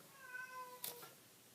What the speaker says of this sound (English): you'll hear my cat crying